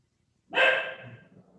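A dog lets out a single sharp, close bark after a moment of silence, the sound ringing briefly before fading away.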